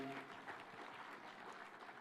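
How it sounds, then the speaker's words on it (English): Applause from an audience at a Kenyan government event following a Cabinet Secretary's speech, a faint, steady patter of clapping heard from a distance throughout. "A better applause for Waziri Mbadi."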